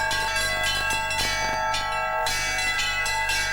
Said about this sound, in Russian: как встарь, колокольные звоны.